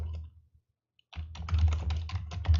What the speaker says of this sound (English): If I just type it in on Google.